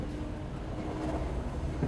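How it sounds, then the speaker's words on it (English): Steady low rumble and rattle of a train ride in the video game Void Inside, a continuous close rolling drone with faint mechanical texture and no talk. "We're just enjoying a train ride."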